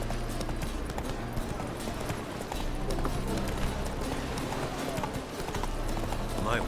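Roach, Geralt's horse in The Witcher 3, gallops with rapid, rhythmic hoofbeats that stay steady throughout, mixed with game ambience while a voice speaks over it.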